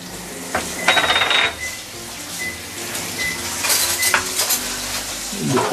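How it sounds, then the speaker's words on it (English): Garlic sautéing in oil in a pan on a stovetop, a steady close sizzle and crackle with scraping and clinking of a utensil against the pan, for a stir-fry of okra with sambal. "Give it some oil. We can saute some garlic,"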